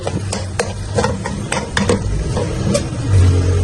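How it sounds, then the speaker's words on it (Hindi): Ginger garlic paste fries and sizzles in a pan with browned onions as a spoon stirs and scrapes steadily, giving a loud, continuous sizzle with regular scraping strokes. "इसको मैं 1 से 2 मिनट तक भूनूंगा कि अदरक लहसुन का जो कच्चापन है वो दूर हो जाए"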